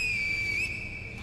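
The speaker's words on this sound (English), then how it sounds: "Finger whistle prosthetic." The finger whistle prosthetic in Sekiro sounds as a loud, shrill single whistle tone, held steady and then bending briefly before tapering off, alone without talk.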